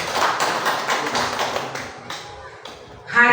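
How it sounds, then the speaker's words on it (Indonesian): Audience applause for a teacher at a school event, a burst of fast, dense clapping that thins out over a few seconds and ends with a louder rustle. "Kita memberi tepuk tangan dulu untuk beliau."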